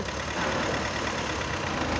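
A Zoomlion combine harvester's engine runs hard while stuck in clay mud, a loud, steady, close mechanical drone with no talk.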